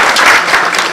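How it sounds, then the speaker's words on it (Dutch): Audience applause for a speaker at a Dutch-language talk on secure computing, a dense, steady wash of many hands clapping close by for just under a second. "Geef een hartelijk applaus"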